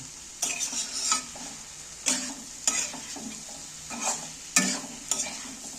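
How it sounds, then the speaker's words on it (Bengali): Spice masala with black pepper is sautéed and stirred in a pan for a steamed egg curry, giving steady close sizzling broken by four bursts of spoon scraping against the pan, with no talking. "এইবার আমি ভালো করে কষিয়ে নেবো"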